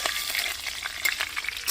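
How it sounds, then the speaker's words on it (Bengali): Slit green chillies fry in hot oil with tempering spices in a pan, a close, loud crackling sizzle with bursts of popping and stirring scrapes, no voices. "ভাজা ভাজা করে নেওয়া হচ্ছে কাঁচা লঙ্কা"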